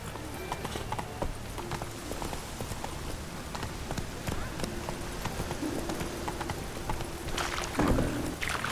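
Roach the horse galloping in The Witcher 3, rapid rhythmic hoofbeats clip-clopping steadily throughout, with a faint game tone and some movement noise, growing slightly louder near the end.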